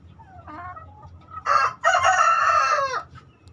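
A Bangkok gamecock rooster crows loudly nearby, a short clucking lead-in followed by a long, drawn-out crow, over faint background hum.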